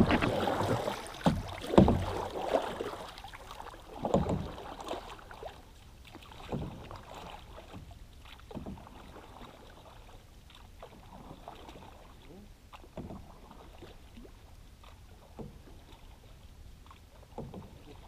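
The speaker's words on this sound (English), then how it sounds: "I'm gonna try with a canoe paddle now" An Old Town Next canoe is paddled with a canoe paddle, soft splashes and strokes through the water at an irregular pace, fairly quiet, with some wind noise against the microphone.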